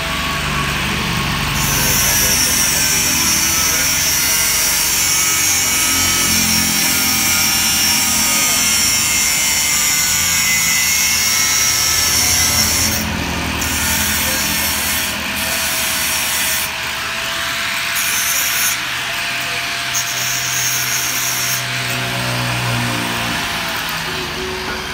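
A saw blade is filed to a taper for joining and welding, with continuous harsh rasping and rubbing strokes close up alongside a steady workshop engine hum and background talking.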